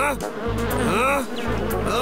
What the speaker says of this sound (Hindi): लगता है इन मक्खियों ने मुझे पीछे काट लिया है।